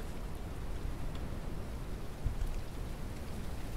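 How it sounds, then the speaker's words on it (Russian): Rain beginning in the survival video game Mist Survival, a dense steady patter of drops on surfaces that holds an even level throughout, with no voices. "А, дождь. Дождь начинается."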